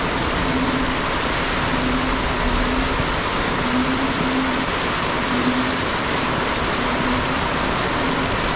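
Heavy rain pours without a break, a dense steady hiss filling the whole stretch, with a faint low hum underneath and no voices.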